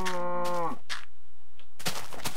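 A Minecraft cow gives a low, droning moo that bends downward and cuts off. Short clicks and thuds from the game follow, then a final burst of noise.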